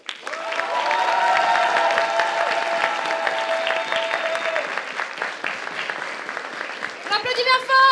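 Audience applause at a solo cosplay contest, a dense, steady clapping that fills most of the stretch with music and voices running underneath, then tapers near the end as a new sound cuts in.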